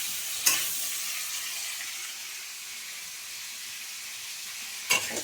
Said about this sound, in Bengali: এদিকে ফুলকপি ভেজে নিচ্ছি